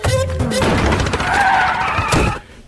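In an Indian film scene, a car skids and strikes a person, with a brief screech, a thud and a crash of impact against a busy, loud mix, ending abruptly.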